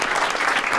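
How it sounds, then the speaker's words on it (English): Audience applause at a Victorian stage magic show, a dense, steady burst of clapping that fills the short moment at full volume, with no one speaking over it. "Let's give her a big warm round of applause."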